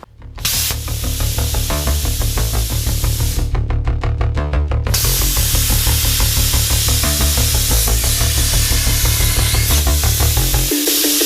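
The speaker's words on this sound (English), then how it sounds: "the plasma cutter I am about to be using" A plasma cutter slicing through metal motor mounts for a Fiero project, a loud steady roaring hiss that runs almost without a break for about ten seconds, close and without talk.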